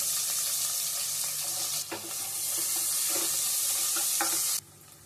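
Onion, garlic and curry leaves frying in a pan for fish curry, a steady loud sizzle with stirring clatter throughout that cuts off sharply near the end.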